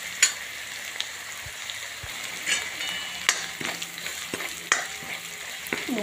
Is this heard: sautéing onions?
yes